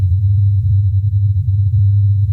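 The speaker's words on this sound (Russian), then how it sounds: "Скрип Земли, гул Земли – так называют это явление очевидцы." A steady, deep droning rumble of the mysterious 'earth hum' sound anomaly holds low and constant throughout, with a faint thin high whine above it and no voices.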